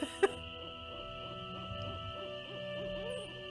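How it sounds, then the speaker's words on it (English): An owl hoots in a Nancy Drew video game, a repeated soft rhythmic call over a steady droning ambient music bed, with one sharp click near the start. "I hear owl."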